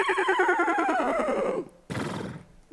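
A person's voice imitates a horse's neigh, giving a loud, close, wavering whinny that falls in pitch, then a short pause and a brief breathy burst after it.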